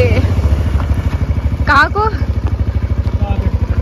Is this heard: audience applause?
no